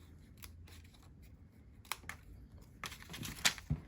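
Scissors snip a paper flower cut-out for a handmade card, a few quiet, scattered crisp cuts and paper rustles close by, with a sharper snip near the end.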